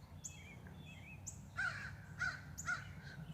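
Crows caw near bird feeders in three or four separate harsh calls, moderately close, over faint background noise.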